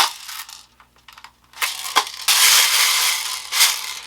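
Airsoft BBs rattle and clatter inside a bottom-loading loader tube as it is shaken: a few sparse clicks first, then loud, dense bursts of rattling up close, with no talking.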